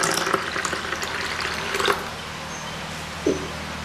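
Thirunootru pachai herb juice, ground with water and strained, poured into a caustic soda soap mixture, giving a steady close liquid trickle with a couple of brief splashy accents.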